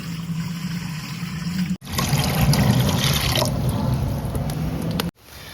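Water pours steadily into a pot set on a wood-fired stove for a few seconds, a loud splashing stream that stops abruptly, then resumes briefly.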